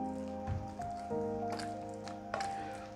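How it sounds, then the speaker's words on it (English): Boiled potatoes being mashed with coconut milk and butter, giving a few soft, wet squishing presses in quick succession, close and fairly quiet, over a faint steady hum. "Mash it with the milk and the butter"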